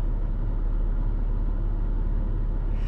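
A car engine idling while parked, a steady low rumble holding evenly from start to finish with no talk over it.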